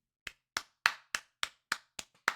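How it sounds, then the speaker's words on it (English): One person claps eight times, crisp and close, each clap sharp and separate with short gaps in a loose, slightly uneven rhythm, over near silence. "Round of applause, Joe Mixon."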